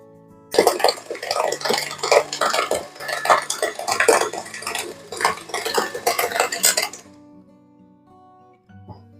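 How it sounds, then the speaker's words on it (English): Softened cream cheese beaten in a bowl, a loud, rapid and continuous clatter and scrape of utensil against the bowl for about six seconds, close up, then stopping abruptly into quiet. "we're going to go ahead and beat that cream cheese"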